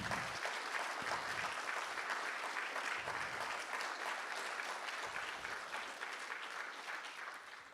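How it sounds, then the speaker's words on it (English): Sustained clapping from a conference audience honouring an award recipient, a dense, steady round of applause that gradually thins toward the end. "Please go ahead and clap."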